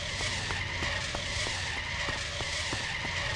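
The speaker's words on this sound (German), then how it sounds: "Meine Karre! Wo fährt der denn hin?" A car in the video game Trader Life Simulator 2 drives off by itself, a constant broadband engine and tire roar with a steady pattern of regular clicks, no voices.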